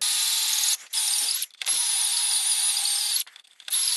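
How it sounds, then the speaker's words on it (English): A high-pitched whirring hand drill bores steadily into wood, pausing briefly a few times before resuming, close and fairly loud. "I think the hand drill is going to work just as well"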